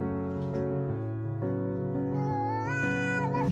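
A kitten meows in a continuous, loud, close sequence of harmonic cries that rise and wobble in pitch, with no talking.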